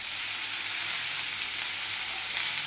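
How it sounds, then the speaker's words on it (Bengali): Pumpkin fries in a pan with salt and turmeric, giving a steady, even sizzle heard close up with no talking. "এবার আমি ভালো করে এটা ভেজে নেব।"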